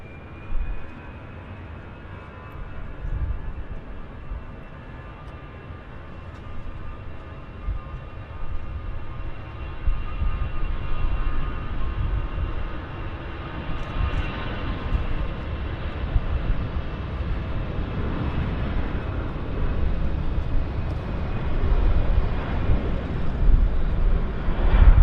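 Airliners, including an A320, at busy Vancouver Airport, a continuous roar of jet engines that grows steadily louder over the span as aircraft taxi and move nearby, with no voices.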